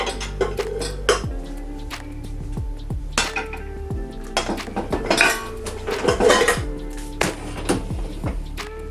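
Indian steel pots, bowls and dishes set into a Bosch dishwasher rack, a run of metallic clanks, clinks and rattles at irregular intervals, some sharp and ringing, close by with no talk.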